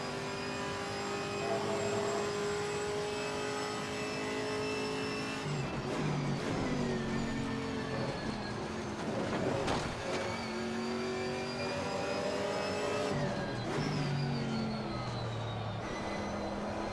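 A race car in the SimSport Racing sim accelerates hard, its engine note rising and dropping through repeated gear shifts, loud and sustained, with no talk over it.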